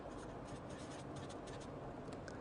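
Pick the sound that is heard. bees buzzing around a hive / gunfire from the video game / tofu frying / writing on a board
writing on a board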